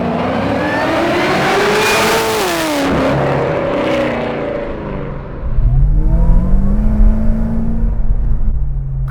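A 650 hp supercharged LSA V8 Chevy SS sedan accelerates close by, its engine note sweeping up through the revs, then dropping and climbing again with a deep, loud growl.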